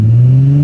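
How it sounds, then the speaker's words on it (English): A car engine revs at a drifting track, a loud, steady, close drone held for under a second. "Just rev it up."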